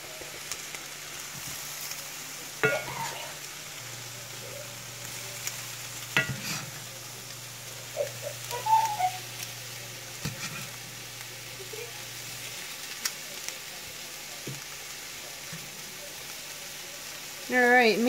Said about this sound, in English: We're going to start mixing it in with the celery and the onions.